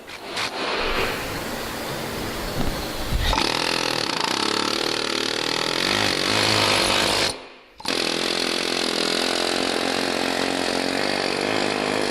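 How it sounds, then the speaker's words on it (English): Air chisel hammering old parts off a snowmobile skid, a loud, sustained rapid-fire rattle that runs for several seconds, cuts out briefly, then resumes at full force, with no talking. "What we use here at Sled Shed TV is an air chisel, and it just runs them right off."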